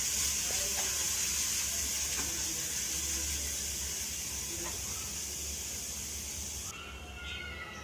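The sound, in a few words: frying chopped onion, garlic and green chillies in oil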